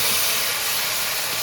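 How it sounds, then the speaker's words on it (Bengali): Taro and potato sizzle in hot oil, a loud, dense, steady hiss close by that holds evenly throughout, without any speech. "তেলটা গরম হয়ে গেছে, এবার কচু আলুটা তেলের মধ্যে দিয়ে দেব"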